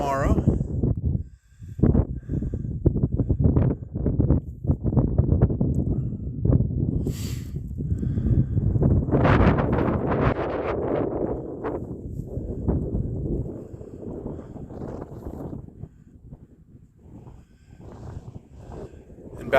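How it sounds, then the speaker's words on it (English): Gusty wind on a mountaintop along the Appalachian Trail near Erwin, Tennessee, buffeting the microphone in uneven surges and rumbles while someone talks through much of it. "It's quite windy up here."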